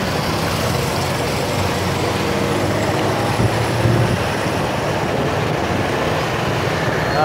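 A Saigon city bus on a night market street, a continuous heavy engine rumble with broadband traffic noise, steady and fairly loud throughout, close by amid busy street ambience.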